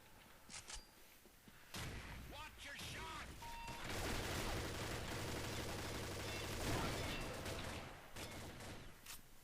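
The T-2 gun in a video game fires in rapid, sustained volleys at a very high rate, loud and close, with scattered earlier shots and a voice talking faintly beneath.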